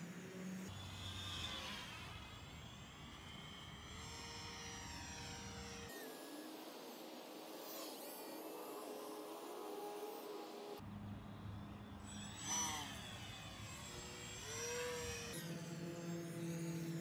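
A small 3D-printed UMX Turbo Timber RC airplane flies overhead, its electric motor and propeller whining in a thin, shifting tone that rises and falls as it passes, fairly faint against outdoor background.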